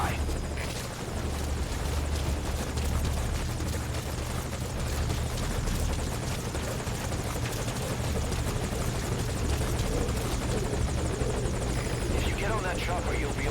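A helicopter hovers at a landing zone in Metal Gear Solid V, its rotor chop and turbine whine forming a continuous, even roar that stays constant throughout, with radio voices speaking faintly beneath.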